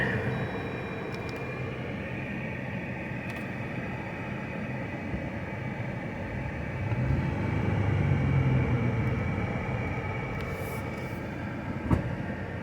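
Steady, heavy low rumble of an off-road vehicle crawling in four-wheel-drive low range along the Brown Mountain trail in North Carolina, droning continuously, swelling a little midway, with one brief sharp knock near the end.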